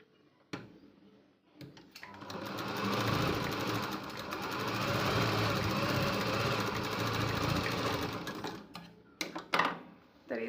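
A sewing machine stitches a dart in a blouse back piece, starting with a few clicks, then running in a steady rapid whir for several seconds before stopping with handling knocks.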